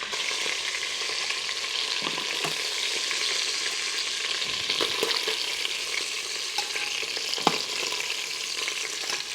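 Chicken thighs sear in an Instant Pot with a steady, close sizzle of frying fat running throughout, broken by a few faint scrapes and clicks as pieces are moved.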